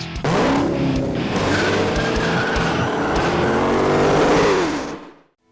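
A Dodge Challenger Hellcat with its 707-horsepower 6.2-liter supercharged Hemi roars close by with rising whine and prolonged tire squeal, loud and sustained for several seconds before cutting off abruptly.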